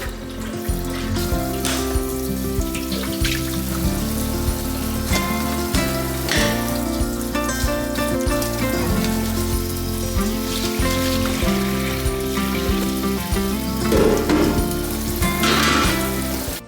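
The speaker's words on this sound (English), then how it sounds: "Now I'm ready to clean the air fryer properly because the water has cooled down enough for me to be able to wipe it down." An air fryer basket is scrubbed and rinsed in a kitchen sink, water rushing and splashing steadily at close range beneath background music, with no pause in the flow.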